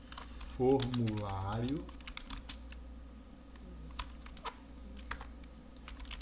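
Quick bursts of keystrokes on a computer keyboard during desktop software development, close and clear, with someone speaking briefly at the start and scattered taps continuing afterward.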